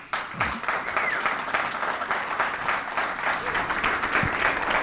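Audience applause at a lecture, dense steady clapping from a room full of people that starts abruptly and carries on evenly to the end.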